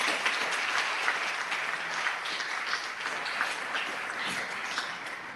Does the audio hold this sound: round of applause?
yes